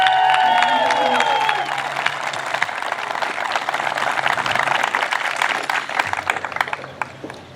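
A crowd of families and friends applauds fifth graders at an elementary school graduation, a sustained rattle of clapping with cheers and a few voices mixed in, loud at first and thinning slightly toward the end.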